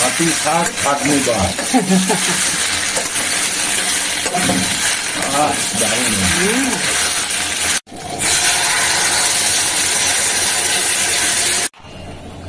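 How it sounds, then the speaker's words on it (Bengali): Onion, garlic, ginger and tomato sizzle and are stirred in a pan, a steady loud frying hiss with scraping stir strokes, while a voice talks over the first part. "ভালো করে কষিয়ে নেব।"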